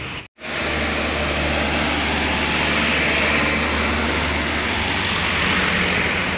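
A tour bus engine drones steadily as it climbs an uphill bend on a provincial road between Blitar and Malang, a loud, sustained roar close by after a brief cut at the start.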